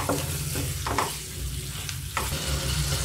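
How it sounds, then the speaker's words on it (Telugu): Chicken pieces stirred into hot ginger paste in a pan for gongura chicken curry, a steady close sizzle broken by a few sharp scrapes of the spoon. "చికెన్ వేసాక బాగా కలపాలండి మిశ్రమం అంతా పట్టేలాగా"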